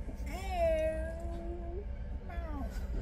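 People imitating a cat, with two drawn-out voiced meows, the first long and wavering and a shorter one near the end, close and fairly loud over a steady low background.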